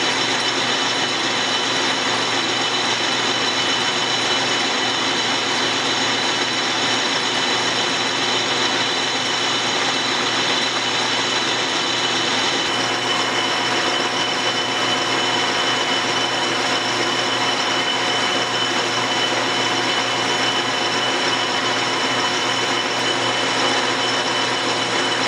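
Steel lathe cutting down a hard steel press plate, a steady even mechanical whir with a faint ticking rhythm running unbroken at moderate level, no voices over it.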